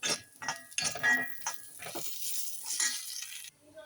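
Curry leaves dropped into browning grated coconut in a pan for a Kollam-style fish curry crackle and sizzle in short sharp bursts, fading to a softer hiss.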